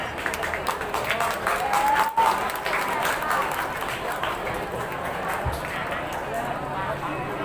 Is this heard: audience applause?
yes